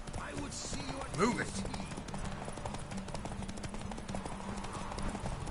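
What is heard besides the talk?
horses galloping in a race, from video game Witcher 3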